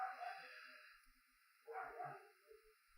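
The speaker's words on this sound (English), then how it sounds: "hear the dogs barking, the neighbors" Neighbors' dogs barking in the background, with two short bursts of faint, distant barks about a second apart and then quieter gaps.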